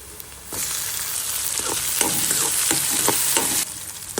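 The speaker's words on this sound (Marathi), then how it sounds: "अद्रक लसूणची पेस्ट, बारीक चिरलेला एक कांदा चांगला लाल परतून घ्यायचा आहे।" Chopped onion and tomato with ginger-garlic paste and mustard seeds sautéing in a pan, a steady loud sizzle starting abruptly and holding for about three seconds, with scraping stirs and crackles on top, then cutting out.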